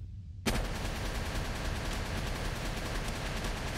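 A rocket volley fired in the Palworld video game, a full barrage at Blazemut, bursts in abruptly after a short quiet lead-in, followed by a dense, continuous rattle of rapid explosive fire.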